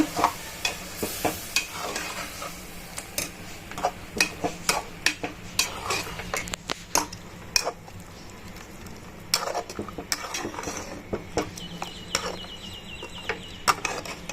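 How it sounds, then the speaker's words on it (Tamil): A spoon stirs ground masala paste into mutton curry in a hot pan, with repeated scraping clicks and clatters against the metal over a soft sizzle, irregular strokes continuing for several seconds. "இப்போ நம்ம அரைச்சி வச்ச பேஸ்ட்டையும் ஆட் பண்ணிக்கலாம். இதையும் நல்லா மிக்ஸ் பண்ணிக்கோங்க."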